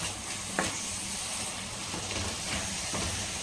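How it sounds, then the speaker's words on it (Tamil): Fresh green peas being stirred into vegetable biryani with potato in a pan, a soft, steady scraping and gentle sizzle with a few sharper clicks, fairly quiet and without talk. "பட்டாணி சேர்த்துட்டு இப்போ மிக்ஸ் பண்ணிக்கலாம்"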